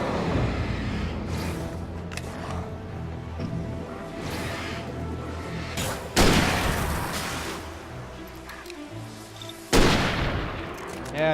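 Gunfire in the video game Alan Wake, with several sharp, loud shots, two especially heavy blasts standing out, over a constant bed of game ambience and music.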